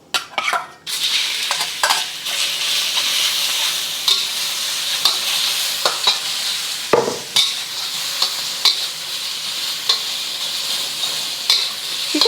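Shrimp frying in oil in a hot pan gives a steady bright sizzle, with intermittent scrapes and clinks of a utensil stirring against the pan throughout.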